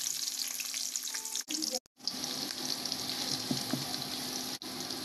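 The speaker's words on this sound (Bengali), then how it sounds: "পেঁয়াজ ভাজা হয়ে গেছে" Onions frying in a wok with oil, cardamom and cinnamon for bhuna khichuri with chicken make a quiet, continuous sizzle with occasional stirring clinks and two brief gaps.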